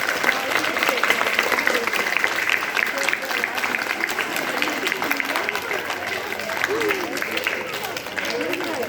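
Schoolchildren at a school magic show clapping rapidly and continuously, a dense crowd of applause with children's voices and chatter mixed in throughout.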